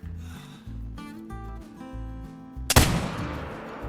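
A muzzleloader rifle fires once in the hunting game theHunter: Call of the Wild, a single sharp, loud blast that booms and then rings out into a long decaying tail, following a stretch of quieter tonal background music.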